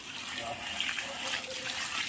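A child plays with running water during laundry washing, making gentle splashing and trickling that runs quietly under nearby voices.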